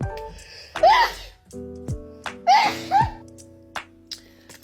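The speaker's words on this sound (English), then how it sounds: "I sneeze." Several sharp sneezes from one person during a sneezing fit, each a quick breathy burst with a vocal edge, close and fairly loud with quiet pauses between.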